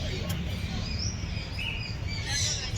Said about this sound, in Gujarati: પાછળ ચકલી છે.